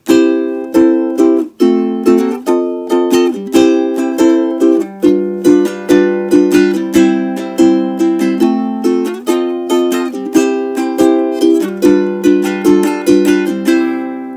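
Ukulele strums a song intro with chords left ringing and unmuted, a lively, regular rhythm of bright strummed chords with sustained overlap between strokes, close and clear.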